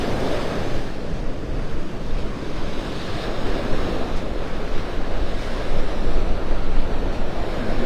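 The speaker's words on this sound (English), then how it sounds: "The bigger waves are out raking over the outer edge of the sandbar." Waves rake over the outer edge of a sandbar on Vanderbilt Beach in North Naples, a steady rolling surf roar with wind buffeting the microphone throughout, swelling slightly louder toward the end.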